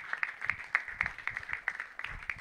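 Fairly faint, loose applause from an audience at a prize ceremony for the Divine Premier League season 4, with scattered uneven claps over a couple of seconds.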